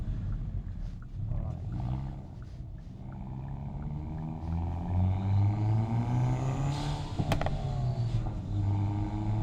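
A Hyundai i30N drives along with a loud, rising exhaust drone close by. One sharp crackling pop cuts through near the end.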